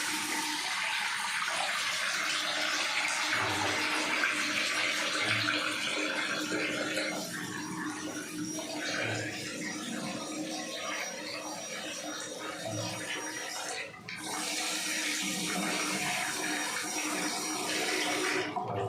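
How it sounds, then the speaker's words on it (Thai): Water gushes hard from an opened faucet being cleaned of clogging soil, a loud continuous rushing spray that holds steady and dips briefly before resuming at full force. "ถ้าเปิดปุ๊บเนี่ยน้ำของเราก็จะพุ่งแรงนะครับ"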